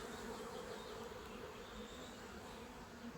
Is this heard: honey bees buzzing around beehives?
yes